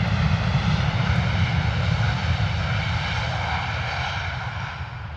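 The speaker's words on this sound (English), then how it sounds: "nice reverse thrust noise there from my friends at Ryanair." Ryanair airliner using reverse thrust on landing at London Stansted Airport, a loud, steady jet roar with deep rumble that holds for several seconds and then slowly fades, with no voices over it.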